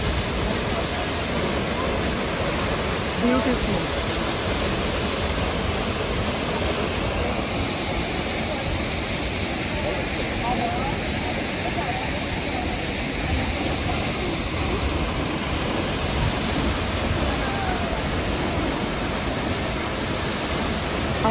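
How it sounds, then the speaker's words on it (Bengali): A waterfall on a green hillside crossed by wooden stairs rushes steadily as a broad, loud, unbroken roar throughout, with a brief spoken word under it. "এই হচ্ছে ঝর্ণাটা"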